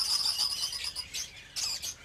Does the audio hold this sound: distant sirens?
no